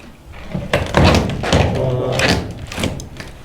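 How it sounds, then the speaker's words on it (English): In an abandoned insane asylum building, a door is pushed shut amid a series of heavy thunks and knocks, loud and close, with shuffling movement and no speech. "and close the door."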